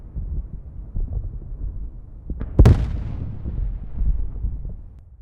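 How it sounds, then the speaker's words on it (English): A bomb dropped from a drone onto soldiers in a field detonates in a single sharp, loud blast, set against low rumbling wind noise before and after. "The drone operator drops a bomb on these soldiers."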